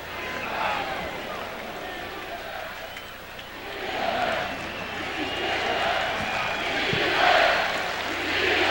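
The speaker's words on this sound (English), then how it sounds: "Crowd getting back into it." A large crowd roars at a college football game between Oregon State and Washington State, a steady wash of cheering that swells in waves, with commentators talking over it.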